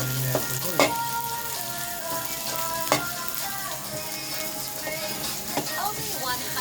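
Sisig sizzles steadily in a hot pan while utensils clink and scrape against it now and then, a few sharp taps standing out over the continuous frying hiss.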